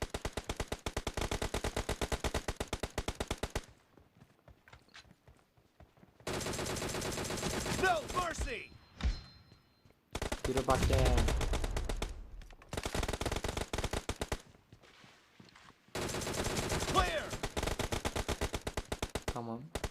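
Automatic gunfire in the mobile game PUBG Mobile, loud rapid bursts of shots separated by short pauses, with several sustained volleys across the stretch.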